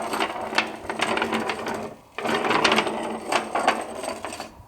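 Wire wheel cleaning the threads of a lawn mower deck spindle from a Simplicity Regent, a close, steady buzzing whir with scratchy grinding, briefly pausing midway before resuming.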